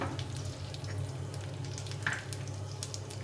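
Raisins frying in a pan give a steady, close sizzle that runs unbroken throughout, with one brief brighter crackle partway through.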